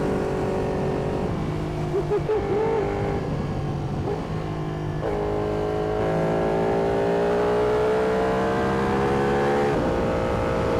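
A Ducati Panigale motorcycle engine roars loud and close, revving up and down in continuous surges with rising pitch as it accelerates.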